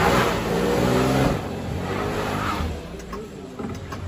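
A Porsche Cayenne SUV's engine labours off-road as it climbs a hill, a steady close rumble that is loud at first, then eases to a lower, rougher drone with faint knocks near the end.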